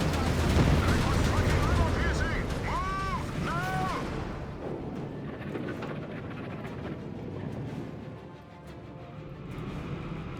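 Starstorm rocket artillery firing in the Company of Heroes 3 battle, a loud rolling barrage of blasts and rumble with a brief whistling streak, then fading to a steady din of distant battle noise.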